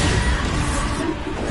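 The Bombarda explosion spell in Hogwarts Legacy goes off as a short, dense rumbling blast with a crashing, noisy burst that fades slightly near the end.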